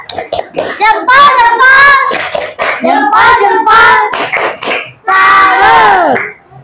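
A group doing a rhythmic 'tepuk salut' clapping cheer in a classroom setting, energetic voices chanting loudly in bursts with clapping mixed into the shouting.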